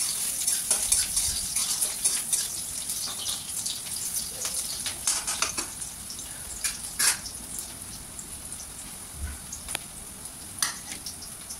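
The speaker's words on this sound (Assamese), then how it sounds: "পিঁয়াজখিনি অকণমান ভাজিব লাগিব। এয়া মই ভাজি আছোঁ।" Oil sizzles and crackles steadily in a pan, with scattered sharp pops and spatters and a few soft stirring scrapes. No one speaks.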